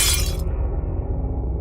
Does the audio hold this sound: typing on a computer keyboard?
no